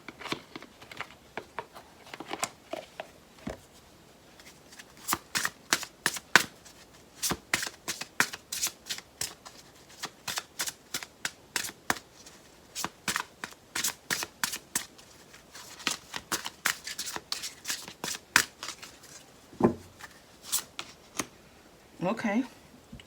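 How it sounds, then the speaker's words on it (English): Romance Angel oracle cards are shuffled close up, giving a long run of rapid riffling flutters and soft slaps in quick bursts, with talk briefly at the end. "let me go ahead and pull a Romance Angel card"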